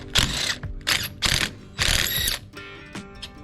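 Ratchet wrench with a 1 1/16 socket clicking as it loosens lug nuts on the rear wheel of a 1988 Ford F250, several loud close bursts of rapid pawl clicks.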